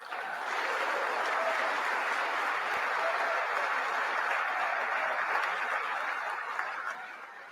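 Audience applauding and cheering, dense sustained clapping that fills the whole stretch at even loudness before tapering at the end.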